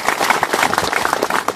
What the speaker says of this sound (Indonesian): Ini saya minta tepuk tangan lagi satu kali lagi.